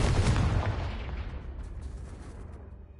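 A Confringo explosion spell in Hogwarts Legacy sets off a deep, rumbling blast that rolls away and fades over a few seconds, with no voices.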